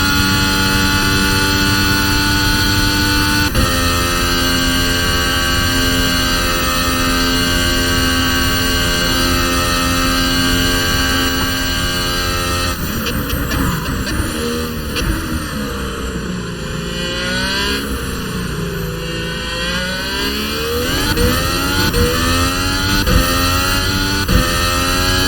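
A high-pitched F1 race car engine screams steadily in a racing video game, holding a loud, sustained tone before it swoops down and back up through gear shifts.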